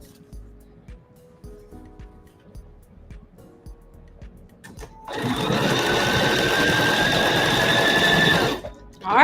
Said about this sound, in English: Move to my sewing machine.